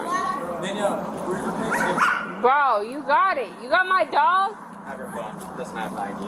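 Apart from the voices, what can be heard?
dog barking and whimpering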